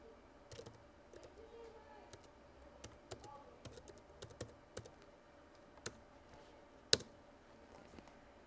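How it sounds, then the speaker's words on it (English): Keys are tapped on a lighting board's virtual keyboard, a series of light, irregular clicks and taps spaced over several seconds, with one sharper click standing out, fairly faint and close against a quiet room hum. "You can use the keyboard here to type in whatever you want."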